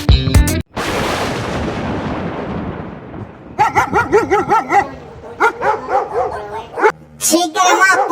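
A cartoon puppy yips and barks in a quick series of high, bouncy calls, loud and close, after a burst of noisy music, with more animated sound effects at the end.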